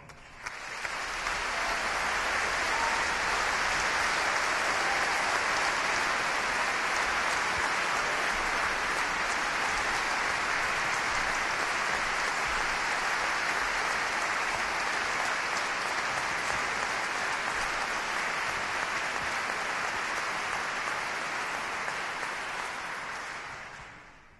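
A concert audience at Hollywood in Vienna 2011 applauds a composer, a dense, sustained wash of clapping that swells in and holds steady for over twenty seconds before tapering off.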